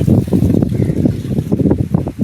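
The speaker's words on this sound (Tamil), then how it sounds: "காற்று நல்லா அடிக்குது" Strong wind gusts through a home garden, buffeting the microphone with a loud, continuous low rumble that swells and dips for a couple of seconds.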